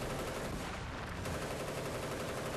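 A tank-mounted machine gun fires in Battlefield Bad Company 2 Vietnam, a dense, continuous loud burst of rapid gunfire with no talking.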